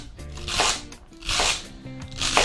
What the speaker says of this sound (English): let's get this celery cut up here